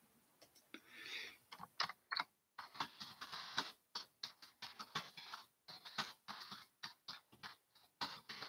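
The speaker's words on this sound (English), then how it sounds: "Oh, I'm typing and it's not going anywhere." Typing on a computer keyboard during a model car build session, with quick irregular clusters of crisp key clicks and short pauses between bursts, heard close and alone.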